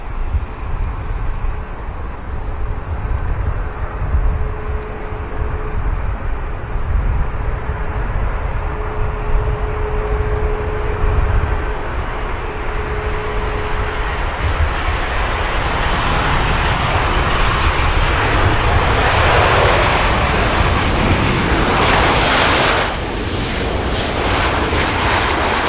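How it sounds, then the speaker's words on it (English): A Jet2 airliner touches down on the runway at Manchester Airport, its engines roaring steadily throughout, swelling into a louder broadband rush of reverse thrust and rollout near the end. "nice touchdown for the Jet 2."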